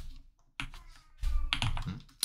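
Keys clatter on a computer keyboard in a few short bursts separated by pauses, close and fairly crisp, with no one talking.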